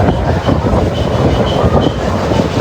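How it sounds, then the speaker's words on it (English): Steady rumbling rattle of a small tourist toy train rolling along its rails toward Elephanta Caves, Mumbai, loud and continuous, with the rhythmic clatter of wheels and carriage noise throughout. "We are on a toy train"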